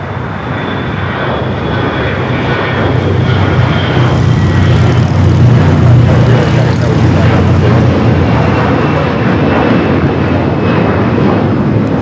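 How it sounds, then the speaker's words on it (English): Delta Airlines Airbus A321 jet taking off at LAX, its engine roar swelling louder midway and staying strong to the end, with voices talking over the rumble. "This is Delta Airlines 715 taking off to Atlanta on the A321"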